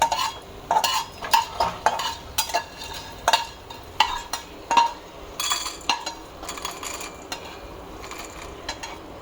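Roasted grinding masala being scooped out of a pan on a home stove after slow dry-roasting, a series of soft scraping and clinking spoon strokes against metal, irregular and close, with no talking.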